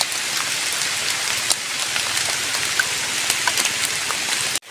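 Steady rain falling in a forest, a dense even hiss of drops with a few sharper nearby drips, close and continuous throughout.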